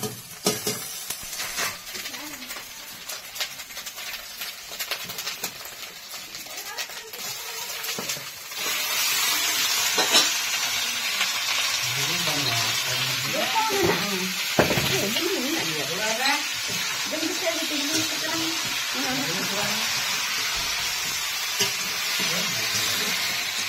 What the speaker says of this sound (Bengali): এই দেখো পেঁয়াজ ভাজা হচ্ছে, পেঁয়াজ।